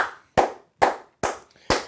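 Four loud, close hand claps, slow and evenly spaced, ring out alone with short decays in between.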